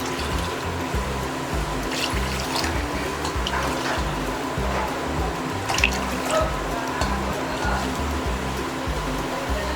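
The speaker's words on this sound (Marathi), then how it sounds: "कढईमध्ये मी 2 कप साखर घालून घेते. कप साखर घालून घेतली आहे आणि हे बघा 4 कप हे पाणी घालून घ्यायचं आहे आपल्याला." Water poured onto sugar in a kadai, a steady liquid splash and trickle running continuously at close range with a low rumble underneath, no talking.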